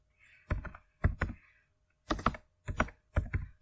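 Computer keyboard keys are typed in short clustered bursts of two or three quick clicks, separated by brief pauses, close and fairly quiet in a silent room.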